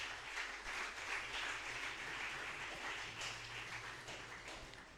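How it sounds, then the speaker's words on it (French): A church congregation applauds during a prayer service, making a fairly faint, diffuse wash of many hands clapping together that holds steady for several seconds without speech over it. "On acclame le Seigneur Jésus"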